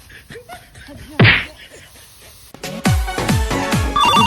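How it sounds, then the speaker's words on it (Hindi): A phone rings in a run of repeated electronic tones in a room after a sharp slap-like bang, loud and near, with voices around it. "गुरुजी फोन आता है।"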